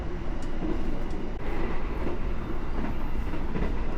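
A Mataram economy new-generation passenger train runs on rails from Jakarta toward Solo, heard from inside as a steady, loud rumble with faint rhythmic wheel clicks, and no talk.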